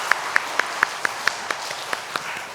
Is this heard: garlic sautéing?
no